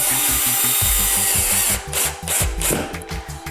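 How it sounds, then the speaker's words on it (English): Power drill with a dimpler bit driving a screw into drywall, a loud rapid motor buzz with rhythmic pulsing as the screw bites, easing off near the end as it seats and recesses. "if you screw that in, that is not going to dig into the wall to the point that it pulls through"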